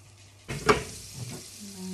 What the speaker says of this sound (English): I'm going to let them fry on a high heat with the lid off for a bit